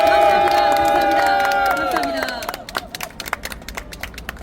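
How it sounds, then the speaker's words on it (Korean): An audience at a political rally calling for an investigation into election fraud, heard as a loud swell of cheering and applause that fades into scattered claps, with a voice over the crowd. "다시 한번 큰 박수 부탁드리겠습니다"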